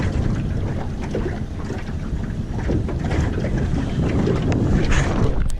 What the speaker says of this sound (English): you can see the palm trees moving. Windy.